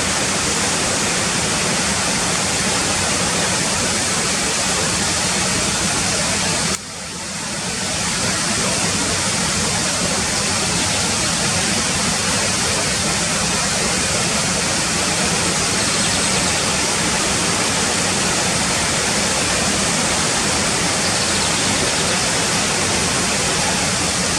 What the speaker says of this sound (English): I'm looking square on the waterfall now